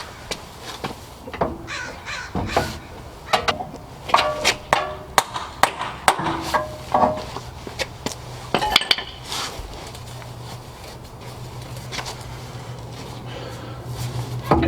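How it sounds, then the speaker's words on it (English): Sharp metallic clanks ring out at irregular intervals, some in quick bursts, as a hammer drives a Honda Accord axle into the transmission up close, with faint background noise. "you want to smack this in. That should pop it into the transmission."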